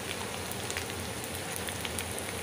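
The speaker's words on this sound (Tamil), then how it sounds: "ரெண்டையும் நல்லா ஃப்ரை பண்ணிக்கலாம்." Ginger and garlic fry in hot oil with mustard seeds for a tuna fish pickle, giving a steady, dense sizzle with fine crackling throughout.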